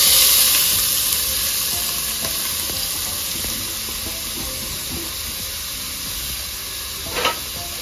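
Onions dropped into hot oil in a pan for peas pulav, a steady close sizzle and hiss that slowly fades, with a brief clatter near the end.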